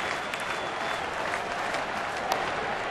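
A baseball stadium crowd at a Cincinnati at Pittsburgh game claps and cheers in a dense, steady wash of applause that fills the whole stretch without a break.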